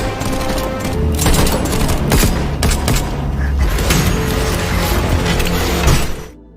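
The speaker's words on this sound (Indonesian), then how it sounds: "Alhasil, baku tembak di tengah pertarungan pun terjadi." Dense, loud gunfire rattles almost without pause through a film shootout, mixed with booms and mechanical clatter, then cuts off sharply at the end.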